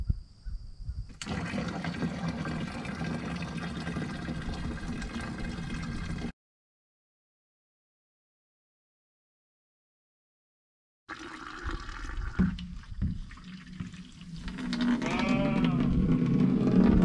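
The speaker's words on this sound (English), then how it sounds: "I'm gonna lift this so we can drain it" Liquid drains steadily from a hole drilled in a badly rusted 55 gallon drum, a continuous splashing pour that breaks off into silence, then resumes and grows louder near the end.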